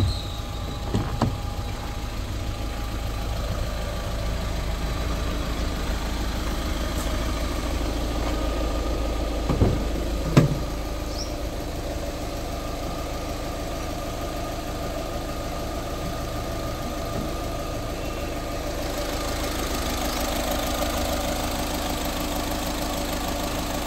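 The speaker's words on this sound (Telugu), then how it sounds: "సరే ఒకసారి ఇంజన్ స్టార్ట్ చేద్దాం" A Volkswagen Vento Highline 1.6 TDI diesel engine idles steadily with the bonnet open, a close, even clattering hum that holds throughout, broken only by a couple of brief knocks near the middle.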